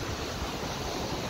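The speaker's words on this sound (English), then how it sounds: "The waves are pretty crazy." Ocean waves on a beach, heard as a steady, loud wash of broadband surf noise with some wind rumble, continuous and unbroken, with no one talking.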